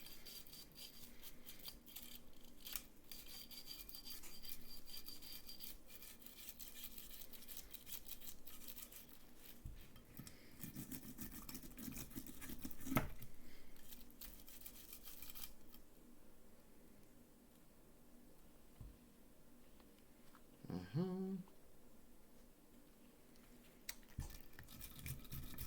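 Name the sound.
brush scrubbing the slide of a Taurus G3 pistol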